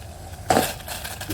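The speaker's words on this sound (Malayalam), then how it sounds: "അതിനകത്തോട്ട് ഇനി ശർക്കരയും കിട്ടേക്കാം" A single close thud and crunchy rustle as a lump of jaggery is dropped into boiling water in a pan, followed by a softer scraping sound.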